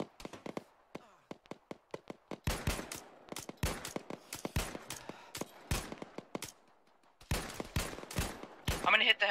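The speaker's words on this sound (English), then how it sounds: "Watch that heavy gun." A heavy gun fires in Arma 3 during a Gulf War battle, sharp cracking shots in irregular bursts and rapid runs, some nearer and louder than others, with brief gaps between volleys.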